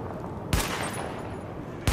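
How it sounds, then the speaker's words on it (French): Gunfire aimed at highlighted targets during a weapon test in the video game The Division comes as two sharp shots spaced more than a second apart over a steady rushing ambience. "Tirez sur les cibles en surbrillance"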